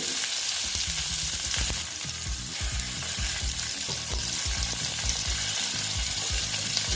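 Pointed gourd pieces fry with turmeric and salt in hot oil, a loud continuous sizzle broken by repeated clattering stirs of a spatula against the pan.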